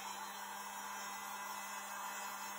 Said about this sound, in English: I'm going to start out using just my little blow dryer